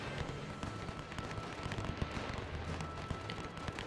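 Machine guns and artillery fire in a WW1 video game, a faint, dense crackle of rapid shots and dull thuds rolling on without pause.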